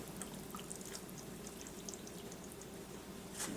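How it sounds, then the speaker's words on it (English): Thick mixture poured from a bowl into a 3-quart casserole dish, giving a soft, steady wet sloshing with faint drips, close by and fairly quiet, with a slightly louder splat near the end. "I'm just going to transfer everything to this 3-quart casserole dish. Just pour it in here,"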